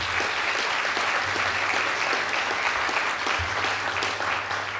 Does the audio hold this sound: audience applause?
yes